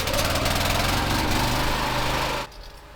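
A pressure washer's small petrol engine runs loud and close with a buzzing, knocking drone, then cuts down abruptly near the end to a quieter hum.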